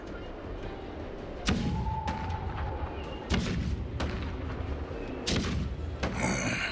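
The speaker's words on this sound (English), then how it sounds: "Do you hear that? The rumble of the cannons." Deep booming cannon blasts in the video game Honkai Star Rail rumble repeatedly over a continuous low roar, several heavy thuds spaced a second or two apart, loud and dense.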